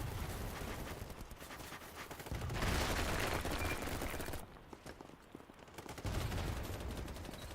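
Rapid gunfire in BattleBit, dense crackling bursts in loud stretches that drop away briefly mid-clip before resuming, with no talk over it.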